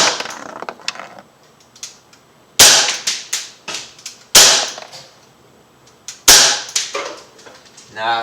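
Pellets from an Umarex Beretta APX .177 air pistol smack a hard target and glance off, four or five sharp, loud cracks spaced a second or two apart with quiet gaps between them.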